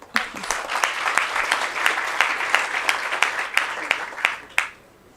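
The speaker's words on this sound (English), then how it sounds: "A round of applause." Steady applause from an audience at a learners' recognition ceremony, sustained crowd clapping with individual sharp claps standing out, ending abruptly after about five seconds.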